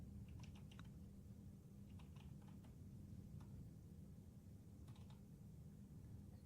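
Keys clatter on a computer keyboard as a command is typed into a Linux terminal, a few quiet clusters of clicks over a steady low hum.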